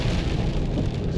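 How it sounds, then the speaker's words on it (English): Hail pelts a moving car on Tasmania's west coast in a dense, continuous drumming patter on the vehicle body, loud and close with no voices, over just a moment. "It's hailing now."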